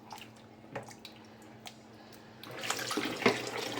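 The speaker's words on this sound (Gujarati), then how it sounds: "એમાં થોડું ઠંડુ પાણી નાખીને હવે એને સરખી રીતે વોશ કરી લેવાના છે" Cold water runs over soaked dried Bombay duck fish being washed, faint drips and splashes at first, then a louder, steadier stream of running water near the end.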